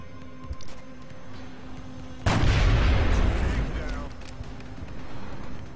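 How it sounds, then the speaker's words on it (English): A sniper rifle fires in the video game XCOM: Long War, a single sharp, loud boom that decays over a couple of seconds, set against quiet game ambience. "Let's go ahead and take a shot with our sniper."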